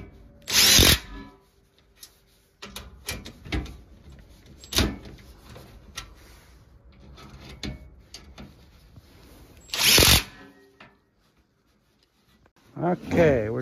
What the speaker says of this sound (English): Now I'm just going to use my power tool and I'm going to secure it.